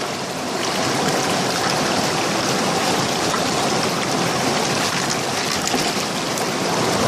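Water rushes steadily through a 3D printed fluid sluice box with an inline classifier, rinsing clay through it in a constant broadband wash, loud and close, with no talk.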